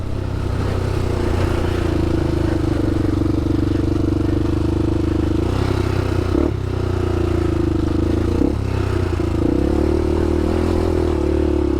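A 2007 Honda 400ex quad engine drones loud and close while riding a trail, holding a steady throttle and then rising and dipping through several revs over rough ground.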